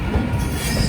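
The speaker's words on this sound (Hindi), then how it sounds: "5 मिनट के होल्ट के बाद 2 घंटे 45 मिनट की देरी से चलती हुई और निकलती हुई बीकानेर सुपरफास्ट" The Bikaner Superfast Express pulls out of Moradabad Junction, its rumbling wheels and squealing rails loud and steady in a short, close burst.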